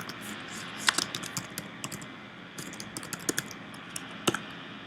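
Keys clatter on a computer keyboard as an app name is typed into a search bar, quick irregular bursts of soft clicks in two short runs over a faint room hiss, with no talking.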